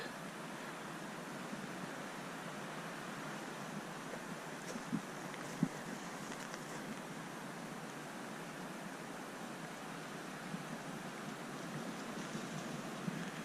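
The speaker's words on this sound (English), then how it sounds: "And you can tell it's getting a little windy." Steady broadband wind noise rushing continuously outdoors on the Appalachian Trail near the James River, with a faint watery wash underneath and a couple of soft knocks.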